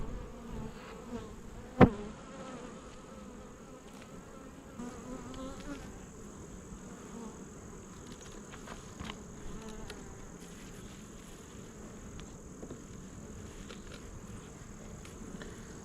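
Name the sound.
honey bees buzzing at a hive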